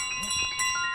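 A bell carried by the goose in Untitled Goose Game jingles in a few quick, bright rings over a brief moment, fairly close and clear.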